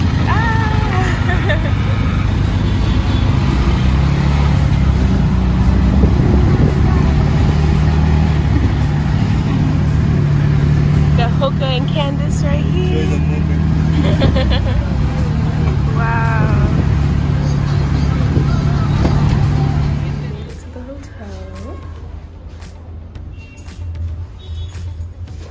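A tuk-tuk ride through Egyptian traffic, with a continuous rumbling engine drone, passing vehicles and scattered horn toots, mixed with voices talking; the engine noise drops away near the end.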